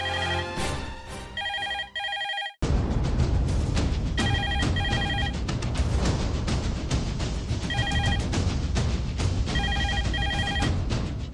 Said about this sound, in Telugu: ఫోన్ ఎవరో చూడమ్మా.